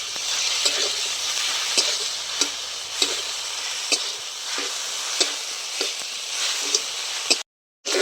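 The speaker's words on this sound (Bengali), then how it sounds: "আদা রসুনটা দিয়ে খুব ভালো করে নেড়ে চেড়ে নিচ্ছি" Ginger-garlic paste and onions fry in a pan with a constant hiss while a spatula knocks and scrapes roughly every half second to second, close by, with a brief dropout near the end and no talking.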